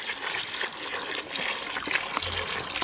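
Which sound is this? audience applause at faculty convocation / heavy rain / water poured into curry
water poured into curry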